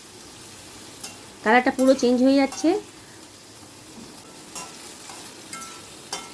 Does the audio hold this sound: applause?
no